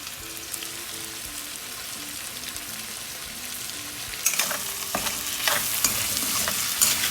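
Dry aloo gobhi spices, coriander powder and salt, stirred into frying oil in a pan, a steady close sizzle with scraping strokes that grow louder and busier toward the end, no voices.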